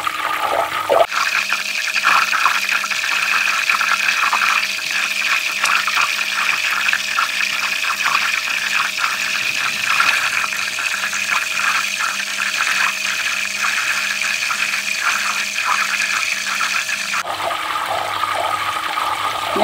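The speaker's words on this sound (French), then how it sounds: "le son que fait l'évaporation de l'eau dans le beurre" Butter being clarified in a pan on the stove at setting 5, with water boiling off in a steady, dense sizzling crackle that runs continuously and up close, with no voices.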